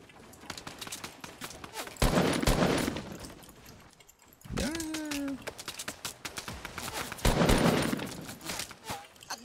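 Bursts of Fortnite gunfire in rapid rattling volleys, loud clusters separated by short pauses, mixed with game effects and talk running through the clip.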